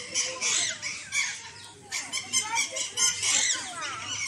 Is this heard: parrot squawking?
yes